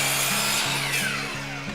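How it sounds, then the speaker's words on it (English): An upcut chop saw trims a blade width off the end of a wooden board, a loud, steady whine of cutting right up close that holds throughout with a rising and falling pitch and no voices. "when I cut this on the upcut saw, the very first cut to get it to a rough length"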